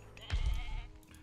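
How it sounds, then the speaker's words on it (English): A single sheep in the video game Age of Mythology gives one short, close bleat lasting under a second. "Perfect time for a sheep to get out."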